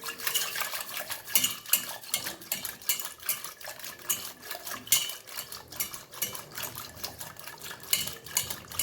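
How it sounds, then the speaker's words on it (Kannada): Sour homemade curd is churned into buttermilk in a pot, giving rapid, rhythmic clinking and sloshing scrapes of a utensil against the vessel that continue throughout. "ಮೊಸರನ್ನ ತೊಗೊಂಡಿದ್ದೀನಿ ಸ್ವಲ್ಪ ಇದನ್ನು ಕಡ್ದು ಬಿಡ್ತೀನಿ ನೋಡಿ"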